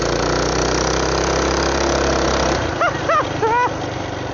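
Yamaha R3 sport bike engine idling close by with a steady, even mid-pitched rumble that continues throughout while a few short voice-like sounds briefly rise over it near the end.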